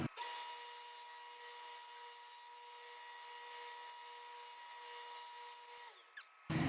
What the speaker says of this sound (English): I'm gonna rip it on the table saw, but I'm only gonna go halfway through